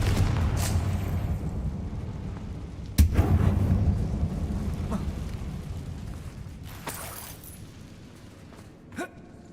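Confringo fire spell in Hogwarts Legacy, a sudden sharp blast a few seconds in followed by a rumbling, crackling tail that slowly fades, with a couple of smaller bursts later.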